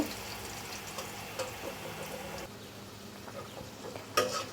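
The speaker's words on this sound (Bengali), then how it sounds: "এটাকে আমি এখন ভালোভাবে ভেজে নেব" Potatoes frying in oil with turmeric give a steady close sizzle with soft stirring scrapes, fairly quiet, then a brief louder clatter near the end.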